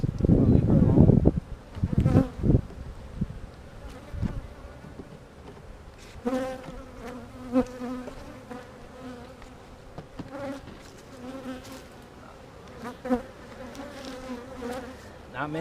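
Honey bees buzz steadily inside a hive being checked during a split, a close, dense drone that swells and fades, with some handling noise and rustling at the start.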